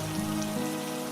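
Rain falls in a dense, even hiss of drops striking a surface, a steady wash of sound with a faint tonal hum underneath and no voices.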